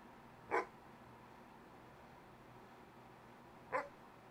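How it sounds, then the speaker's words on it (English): A dog barking sound effect taken from Freesound: two short, sharp single barks about three seconds apart, loud and isolated against a faint steady background hum. "get a dog barking"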